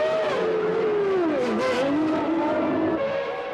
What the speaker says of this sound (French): Coulthard revient au stand au 50e tour, suivi de Hill et de Villeneuve, les deux ensemble au 51e tour